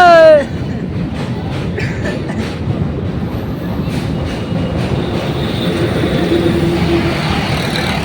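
A train rolls past close by near a bridge at Dakshineswar, giving a loud, continuous rumble with rhythmic wheel clatter and some squeal, and a brief voice at the start.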